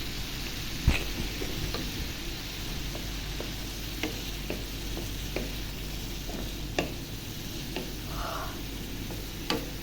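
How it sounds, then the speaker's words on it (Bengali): Tomato is stir-fried into a spice paste for prawn curry, a low crackling sizzle scattered with frequent small clicks and scrapes of stirring. "টমেটো দিয়ে ভুনা করবো আমি এখন।"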